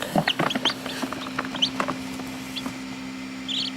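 Young chickens, including what may be a black Australorp, peep and cluck in scattered short chirps over a steady low hum, with a few higher calls bunched near the end.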